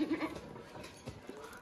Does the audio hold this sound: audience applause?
no